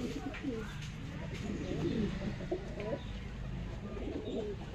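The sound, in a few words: pigeons cooing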